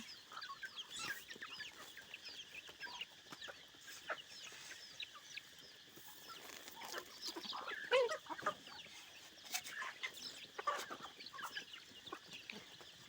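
Several chickens cluck softly and continuously in the background among ducks, with occasional louder squawks standing out.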